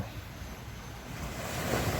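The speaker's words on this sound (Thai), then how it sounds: "คลื่นทะเลซัดฝั่งเป็น ระลอกระลอกนะครับ" Sea waves wash onto a sandy beach, a continuous broad roar of surf mixed with wind noise buffeting the microphone, building slightly toward the end.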